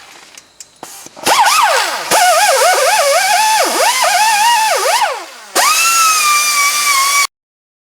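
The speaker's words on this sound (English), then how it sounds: "I have a cookie wheel, which I will use, and some Scotch-Brite." A power drill with a cookie wheel abrasive disc spins against the brake rotor of a 2012 Nissan Altima in loud, whining bursts, its pitch swooping up and down as pressure changes, with short pauses between runs.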